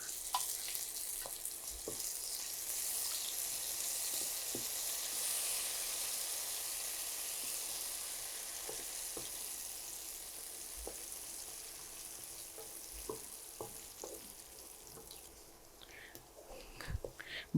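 Spicy dum aloo cooks in a pan with a faint, steady frying hiss, dotted by scattered soft taps and clicks, quiet and fairly distant, with no talking.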